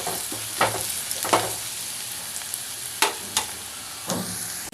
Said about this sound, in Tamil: அது வரைக்கும் பொறுமையாக வதக்குறேன்